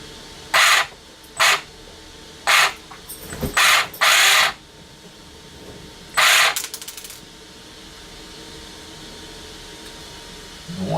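A Vkar Bison RC truck, overhauled with upgraded parts and with a pin loose from its wheel hex, gives several short close bursts of whirring, rattling drivetrain noise on light throttle, separated by quiet pauses.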